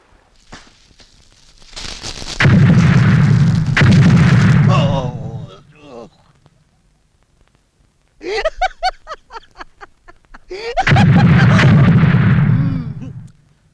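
Firecracker explosions go off in loud bursts: a long roaring blast, then a rapid crackling volley of pops, then another sustained booming blast, all close and dominant.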